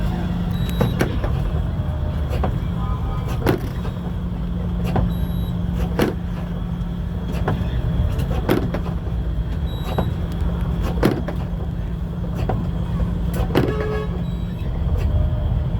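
A taxi pulls in amid road traffic, its steady engine hum joined by repeated sharp clicks and knocks, with a few faint horn toots in the busy street background.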